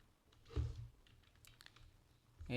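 A few soft, scattered keystrokes tap quietly on a computer keyboard while a search is typed into Google, with a short louder clatter near the end.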